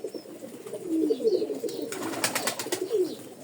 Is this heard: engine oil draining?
no